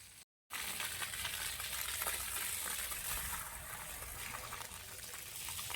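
Steady splashing and spraying of a water fountain beside a playground area at a waterpark with a slide into a swimming pool, continuous and fairly close, after a brief silent gap at the start.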